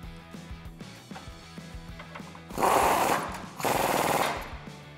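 A bolt on a Jeep Gladiator is driven with a 19mm socket, two loud, rattling bursts of an impact wrench close by after some lighter clicks and handling noise.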